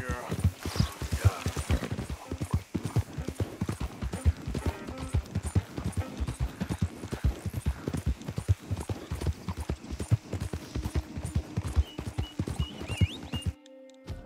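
Horse hooves clip-clop at a steady, quick rhythm throughout, with a brief whinny, in the Red Dead Redemption 2 video game; a player talks over the game sound.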